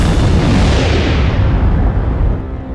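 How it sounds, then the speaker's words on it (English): A supernova explosion sound effect rolls out as a huge, deep roar that sustains loudly and then slowly fades in its final moments, with no voices over it. "The explosion is a supernova."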